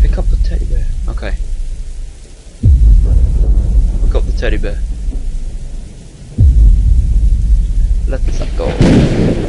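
In the horror video game Slender: Mansion, two heavy thunder cracks boom and rumble over steady rain, while a person talks in between and over them.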